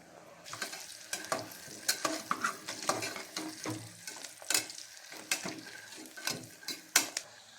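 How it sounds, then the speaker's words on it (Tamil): Onions sautéing in oil in a pan for egg biryani, with steady frying crackle broken by repeated sharp scrapes and clinks of a spoon stirring against the vessel, close and moderately loud, no voices. "வெங்காயம் ஓரளவுக்கு நல்லா வதங்கிடுச்சு"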